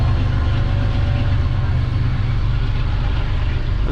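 A departing train pulling out of Pawtucket/Central Falls station on its opening day, a steady loud low rumble of engine and wheels, continuous and close throughout.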